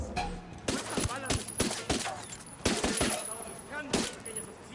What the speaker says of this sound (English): Tango heard the gunshot.